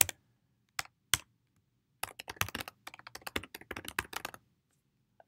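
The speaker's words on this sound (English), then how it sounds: "I'll type in my name." A name being typed on a computer keyboard: a few isolated clicks, then a quick, uneven burst of close, crisp keystrokes that trails off to a single final tap.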